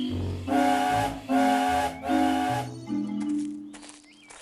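A steam engine whistle sounds three long, loud blasts in a row at a station platform, followed by softer hissing and a brief higher toot.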